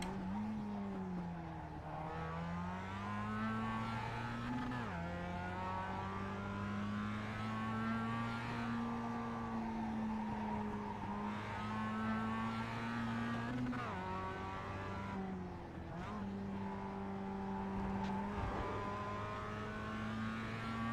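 A Mazda MX-5 race car lapping Laguna Seca in the iRacing simulator, its engine droning and rising through the gears with sharp shift drops and downshifts under braking, continuous and clear throughout.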